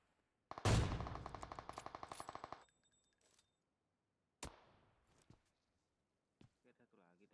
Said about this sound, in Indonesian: Lagi gua tembak lu.